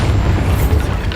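Bombarda explosion spell going off in Hogwarts Legacy, a loud, sustained booming rumble with heavy low-end blast energy filling the whole short moment, no talk over it.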